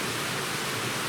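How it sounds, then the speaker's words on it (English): A small waterfall at a creek crossing along a backpacking trail gives a dense, steady rush of splashing water, close and continuous with no voices. "we've got our first little creek crossing of the day, but at least we get a beautiful little mini waterfall to look at"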